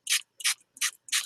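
Four quick bursts from a spray bottle, each a short hissing spritz, evenly spaced and close up.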